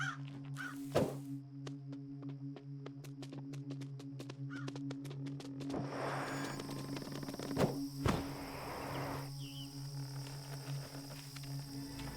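A bearded vulture cries in the survival video game Away: The Survival Series: a harsh, crow-like call heard over a steady game ambience dotted with dull thunks and clicks.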